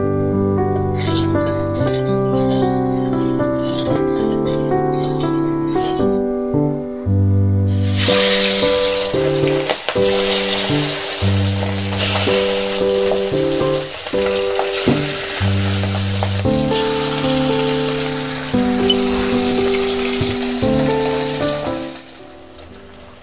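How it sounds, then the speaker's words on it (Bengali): Pabda fish sizzle as they fry in mustard oil in a pan, a constant, close hiss and crackle lasting throughout, heard beneath prominent background music. "মাছটা ভেজে নেওয়ার জন্য এবার দিয়ে দেব সরিষার তেল।"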